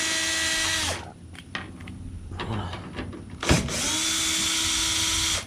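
A power drill spins T15 Torx screws out of an LED reverse light fitting, whining in two steady bursts at the start and end with a short break between, close and loud with no talk.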